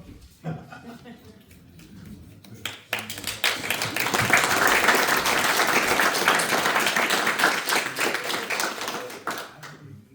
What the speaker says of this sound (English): We're gonna clap for him first.